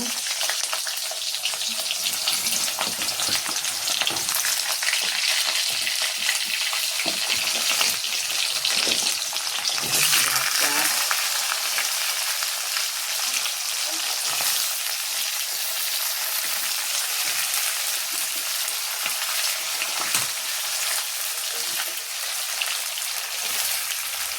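Potatoes and vegetable stalks fry in a pan with whole cumin and black pepper, giving a steady, close crackling sizzle with scattered pops. The sound keeps up evenly for over twenty seconds with no talking.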